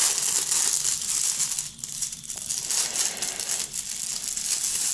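Packaging for carbon filter face masks is opened with close crinkling and crumpling of plastic wrap, a continuous rustle that dips briefly midway before resuming.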